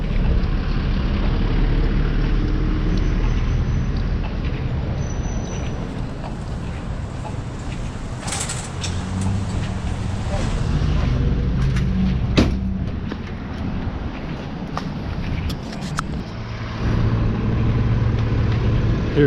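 City buses roll past on a busy Oakland street near International Boulevard, a loud rumbling engine and road roar that swells and fades, with traffic and street noise around.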